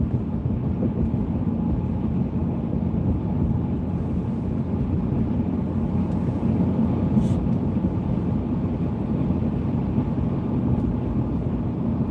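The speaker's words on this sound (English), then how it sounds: "At least it sounds like the front end of my truck ain't about to fall apart." A pickup truck drives along a bumpy road, its engine and road noise forming a steady low rumble throughout without talk.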